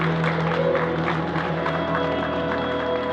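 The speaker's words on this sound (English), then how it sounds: "Let's get a nice round of applause for Shauna" Wedding guests applaud at a reception at Galloping Hill Golf Course in Kenilworth, New Jersey, a steady wash of clapping from a crowd with a faint hum of music underneath, holding even throughout.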